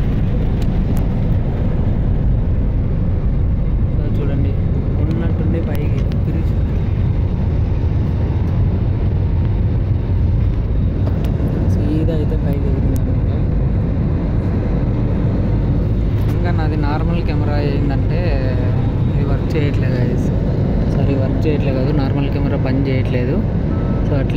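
Inside an airplane cabin on a flight to Goa, a loud constant engine and air roar runs the whole time while people talk over it.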